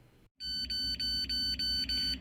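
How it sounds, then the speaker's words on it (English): A refrigerator door alarm with a low battery beeps six times in a steady row, each tone bright and piercing, close up after a brief silence. "The Fridggi unit is beeping 6 times in a row."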